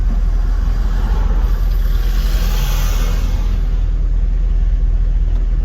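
A car driven with its roof off on a short road trip gives a steady low engine rumble mixed with constant wind buffeting, loud and close throughout, with no talking.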